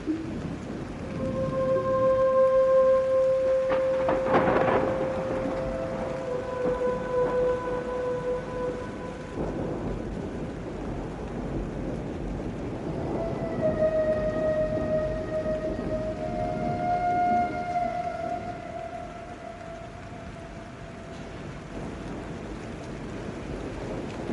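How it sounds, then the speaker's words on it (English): A night storm with steady rain hissing throughout, overlaid by long, sustained wailing tones that rise and hold at loud, even levels. "That night, a storm came in"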